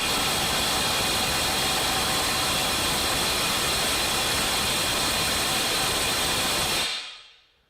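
Compact impact wrench in speed mode 3 running a 500 foot-pound torque test through an adapter, a loud, dense rattling roar held for about seven seconds before cutting off abruptly.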